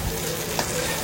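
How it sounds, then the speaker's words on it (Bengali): Noodles and pasta fry with egg, sausage and chicken in a pan, giving a steady close sizzle with one brief stir or scrape. "এখন এগুলাকে একটু হালকা ভাজা ভাজা করে নুডলস আর পাস্তা একসাথে এটা দিয়ে দিবে।"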